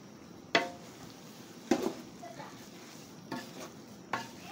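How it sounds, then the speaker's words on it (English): Soup being stirred in large cooking pots, with four distinct scraping, clattering strokes spaced a second or so apart over a low background of quiet sizzling. "keep stirring the pots."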